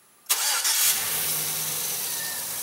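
A 2003 Chevy Silverado engine cranks and fires, then settles into a steady idle close to the mic, with no talk over it.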